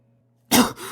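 A single harsh cough bursts out after a moment of near silence, close and loud, trailing into a rough exhale.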